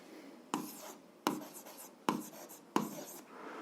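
A pen writes on paper while an algebra exercise is worked out: four short, close scratching strokes, each starting with a sharp tap and fading quickly, with quiet gaps between them and no talking.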